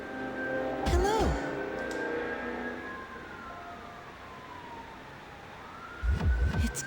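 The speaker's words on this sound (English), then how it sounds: "I have to wait for the siren to leave." An emergency siren passes outside, a wailing tone that sweeps up and down, fades and then rises again in the distance, with a few dull knocks or thumps near the start and end.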